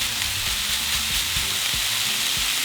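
Ground meat for crunchy tacos dorados sizzles steadily in a hot pan, a dense close frying hiss broken by low knocks as a utensil breaks the meat apart.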